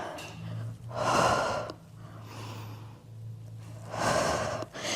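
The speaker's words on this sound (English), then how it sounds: "Exhale, and inhale." Audible exhales and inhales during a Pilates exercise on a springboard and arc, long breathy rushes of air with quieter gaps between, close to the listener, with no speech.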